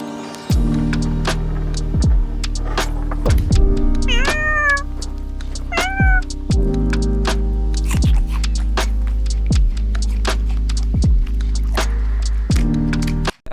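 Cats meow repeatedly over a steady low hum with rhythmic thumps, several clear rising-falling meows close by, sometimes overlapping.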